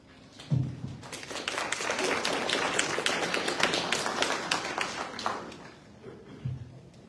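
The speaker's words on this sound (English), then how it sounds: "Please give Treva another round of applause" An audience applauding for a speaker named Treva at a community meeting on Cincinnati policing, with steady clapping from a modest crowd building over several seconds and then fading, plus a few thumps at the start and end.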